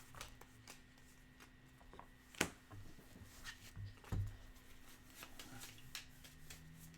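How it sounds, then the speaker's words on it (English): Playing cards shuffled by hand during a Pathfinder Adventure Card Game session, a few soft riffling and rustling bursts close by, with two sharper snaps standing out against a quiet room. "Shuffle those back into the blessing discard pile"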